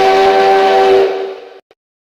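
A steam train whistle blasts loudly and close for about a second with a bright, piercing tone, then fades out, ending with a brief final chirp.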